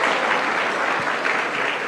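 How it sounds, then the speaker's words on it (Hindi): A large audience claps steadily in a dense, continuous wash of applause at a live panel event, with no voices rising above it. "एक बार तालियां बनती है"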